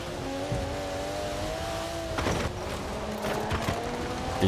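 Race car engine from the video game Forza Horizon 4, a steady droning hum with rising and falling engine pitch, joined by bursts of revving and tire noise partway through, continuous and fairly loud.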